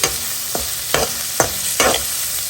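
Onion, tomato and beans fry in a pan while being stirred, a steady sizzle broken by four scraping stirs at roughly even intervals, close and moderately loud with no talking.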